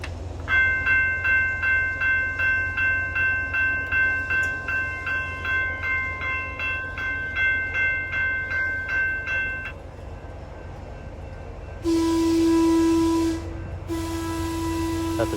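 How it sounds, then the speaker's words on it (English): A model train runs past the AL70 railroad crossing, its crossing bell ringing in rapid, regular pulses for about ten seconds, then a train whistle sounds twice over a steady rolling rumble. "there's a train going through the crossing over there"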